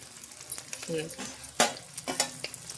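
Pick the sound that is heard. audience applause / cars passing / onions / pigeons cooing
onions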